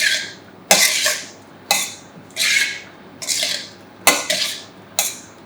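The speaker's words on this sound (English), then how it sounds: "So then you just pour all this vinaigrette over the salad, and then we mix it." Nicoise salad tossed gently with vinaigrette in a bowl, giving a series of soft, rhythmic scraping and clinking strokes, about six separate bursts, close and alone with no talking.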